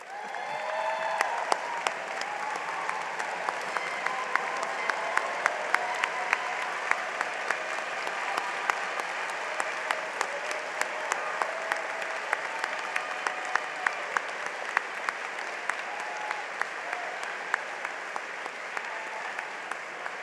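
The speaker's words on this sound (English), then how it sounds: "please stand and let's all give them a round of applause" Sustained applause from a large audience at a spring university engineering commencement ceremony, steady dense clapping with scattered sharper claps, heard from within the crowd for about twenty seconds.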